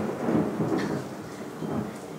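Steady rain pours throughout, with low rolling thunder rumbling underneath; no one speaks over it.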